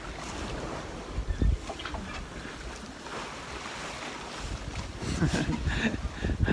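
A sailboat under way on open sea toward Kronborg, carrying steady wind and water rush with occasional louder splashes of waves against the hull, close to the microphone and without talk.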